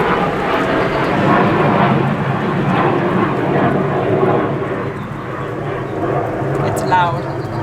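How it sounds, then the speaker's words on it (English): An F-16 fighter jet passes overhead, a loud, broad roar that swells and lingers before easing slightly, heard from outdoors with no talk over it. "the jet plane F-16, I think, is coming now. You can hear it."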